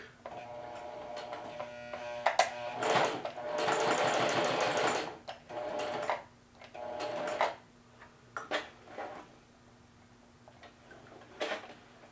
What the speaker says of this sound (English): make the width 1 millimeter wide, and do a bar tack.